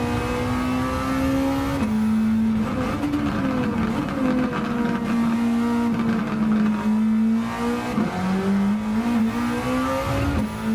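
Race car engine in Gran Turismo 7 lapping Tsukuba, a loud, steady high-revving drone that rises through the gears, dips on shifts and braking, then climbs again, with a little wheel spin on corner exits.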